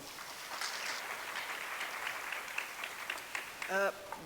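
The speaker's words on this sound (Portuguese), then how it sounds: "Uma salva de palmas para ela." Applause from a university conference audience, a faint, scattered patter of clapping in a large room, with a short burst of a voice near the end.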